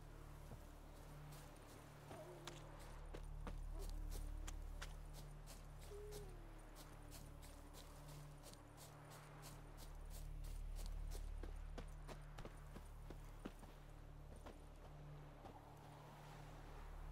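Roach the horse clip-clopping in The Witcher 3 Wild Hunt on Xbox Series X, a steady run of hoofbeats that stays clear and close, with soft wind and faint background tones underneath.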